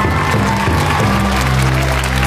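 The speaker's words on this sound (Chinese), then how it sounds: "掌声有请。" A studio audience at a televised arts variety show applauds to welcome two wrestlers onto the stage, a loud, dense burst of clapping that holds steady and close throughout.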